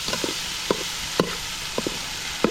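Fish marinade mixed with freshly squeezed lemon juice: close, wet, squelching strokes of mixing, about five soft rhythmic pulses over a light background hiss.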